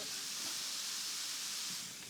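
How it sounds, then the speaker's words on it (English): Plant-based mince with spices sizzles in a hot pan, a steady, even hiss that holds throughout and eases slightly at the end. "It's sizzling in a very meat-like way."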